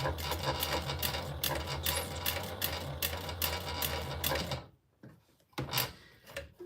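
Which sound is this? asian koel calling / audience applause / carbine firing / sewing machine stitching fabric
sewing machine stitching fabric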